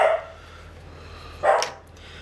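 Puppy barking indoors, two sharp single yaps about a second and a half apart, moderately close over a faint steady hum.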